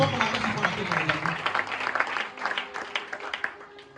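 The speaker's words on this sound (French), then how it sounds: "Acclamons très très fort pour la gloire de Dieu." A church congregation applauds enthusiastically for the glory of God, sustained dense clapping mixed with voices and cheering, moderately distant and steady over the whole stretch.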